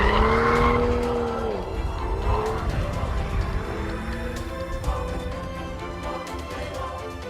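A BMW M235i fitted with a limited-slip differential drifts with loud, wavering tire squeals over a roaring engine, the squeals sliding up and down in pitch throughout.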